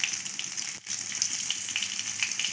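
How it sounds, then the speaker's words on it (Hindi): Dry red and fresh green chillies fry in hot oil for an Odia potato curry, giving a steady, close, crackling sizzle that holds throughout with one brief dip partway. "तापरे मु देदेली किछि सुखिला लंका आउ कंचा लंका मिसेकी तादरे मु पकईदेली"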